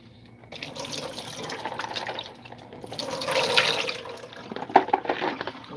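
Running tap water splashing over buffalo-sauce-coated food to wash off pepper and salt, a continuous close rushing and trickling that swells and eases, with a few clinks near the end.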